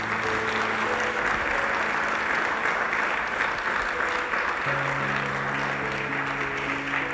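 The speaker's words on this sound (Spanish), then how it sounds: "Dale un fuerte aplauso a nuestro Señor." A church congregation gives a loud, sustained round of applause during a Spanish-language worship service, a dense unbroken wash of clapping with faint tonal hum underneath and no speech.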